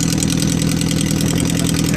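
Honda CBX 750 F motorcycle with a custom-made exhaust runs loud and close, a rough, throbbing engine roar held steady with rapid pulsing, while a voice talks over it.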